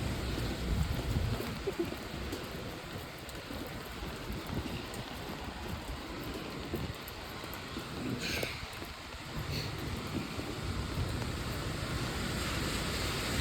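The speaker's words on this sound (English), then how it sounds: "It's raining." Heavy rain pouring down on a Brooklyn street, a steady dense wash of hiss and patter that fills the whole stretch with a couple of brief splashy accents, constant and enveloping with no voices.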